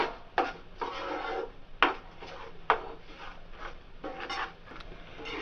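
A spoon scrapes and stirs grated coconut and jaggery in a pan while coconut halwa is being made: a series of sharp scraping strokes about once a second, close and moderately loud, with a low rasp between the strokes.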